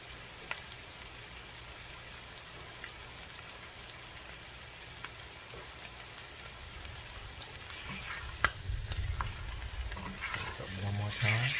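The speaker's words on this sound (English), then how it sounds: "I'm gonna pan sear one more." Butter sizzles and crackles in a hot pan as a porterhouse steak sears with onions and whole garlic, a constant close frying hiss with occasional pops that grows louder near the end.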